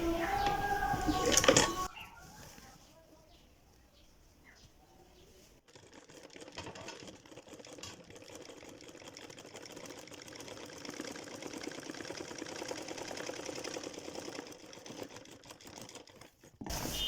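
A domestic sewing machine stitches a cuffed salwar, running a steady mechanical whir that holds for most of the stretch after a brief louder burst at the start.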